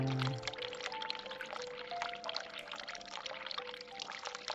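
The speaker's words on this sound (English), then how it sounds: "Okay, so I can't fill it up with water." Water pours steadily in The Cat Lady video game, a continuous bright splashing stream that fills the whole span at an even, close level, with faint tonal ringing underneath.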